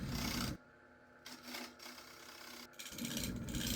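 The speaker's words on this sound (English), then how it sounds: "I'm using my 1-inch scraper here." A 1-inch scraper rubs and rasps against a wooden platter spinning on a lathe, with louder bursts of scraping at the start and end and quieter cutting in between, close and steady with no talk.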